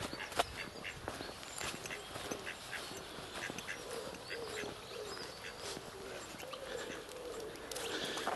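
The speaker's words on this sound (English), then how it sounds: "There's a very aggressive goose." An aggressive goose near its chicks honks and quacks in repeated sharp, close calls along a woodland path, with other birds joining in.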